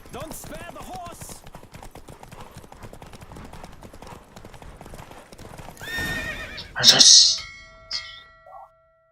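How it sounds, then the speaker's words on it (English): Rhythmic hooves clip-clop steadily under a voice in a horse race in The Witcher 3: Wild Hunt, then a horse gives a loud, shrill whinny near the end, trailing off into quieter sounds. "Don't spare the horse."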